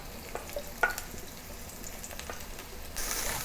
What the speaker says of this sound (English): When it's heated, add the mushroom, saute the mushroom.